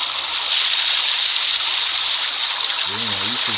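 Pigeons bathing send out a constant rush of splashing water, with a voice briefly cutting in near the end.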